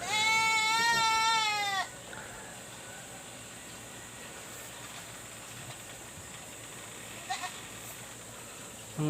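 A goat lets out one loud, wavering bleat close by, followed by quieter farmyard ambience with a faint second bleat further off.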